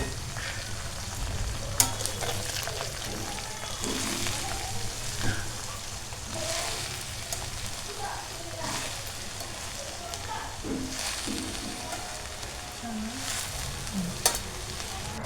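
Amaranth leaves with coriander are stir-fried in a pan, making a close, continuous sizzle with repeated stirring scrapes and clicks, while a person talks over it.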